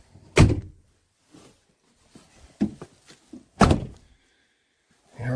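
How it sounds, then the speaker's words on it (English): A Ford F-150 extended cab rear door being shut after a repair: a sharp close thunk near the start and a second heavy slam a few seconds later, with a few softer latch clicks and handling knocks between, in a quiet space. "Go ahead and shut the door."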